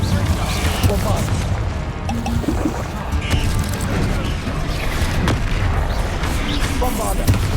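Bombarda explosion spells in Hogwarts Legacy combat land as dense, rumbling booms mixed with clattering and splashing effects, loud and continuous through a busy battle.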